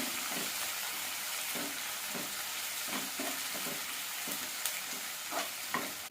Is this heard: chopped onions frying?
yes